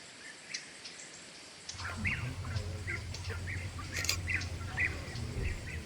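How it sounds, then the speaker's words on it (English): Soft wild turkey chirps and short calls scattered over a quiet outdoor background, with a low steady hum joining partway through. "Turkeys chirp as they leave"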